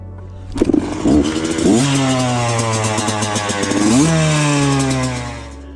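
A 1997 Honda CR80R two-stroke dirt bike engine revs hard and close, rising to a high buzzing wail and then settling into a sustained loud drone, with no talking.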